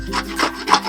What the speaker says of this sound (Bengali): এইভাবে আমি বাকি পটলগুলো কিন্তু সবগুলোই এইভাবে ঘষে নেব।